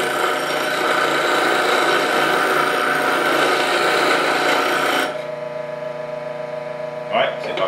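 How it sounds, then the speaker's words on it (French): A wood-turning gouge is worked across a bench grinding wheel, giving a steady loud rasping grind that runs continuously for about five seconds, then drops to the quieter hum of the spinning wheel with a brief touch near the end. "J'essaie de me promener sur ma meule pour pas toujours être au même endroit"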